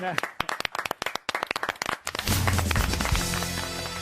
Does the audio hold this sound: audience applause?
yes